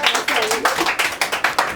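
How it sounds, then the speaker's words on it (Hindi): A church Bible study audience claps in a steady rhythmic pattern of sharp repeated hand claps, fairly close and loud, with some voices mixed in. "इनके लिए ताली बजाओ।"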